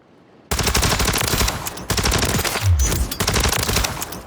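Sustained automatic gunfire from an M13B rifle built for recoil control in a multiplayer shooter, a dense unbroken stream of rapid shots that runs loud and close for several seconds after a brief quiet start.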